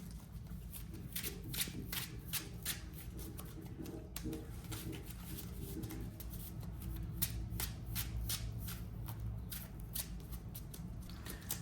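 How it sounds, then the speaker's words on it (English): A deck of Yu-Gi-Oh cards is shuffled repeatedly, giving a run of quick, crisp riffling flutters and soft taps, close by and steady throughout. "All right, the deck is shuffled."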